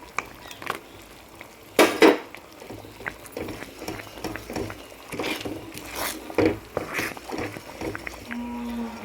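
Roasted cashews tipped into thick halwa in a pan, with sharp clanks of a metal spoon against the pan, scraping and soft bubbling, irregular and close, louder bursts near the start.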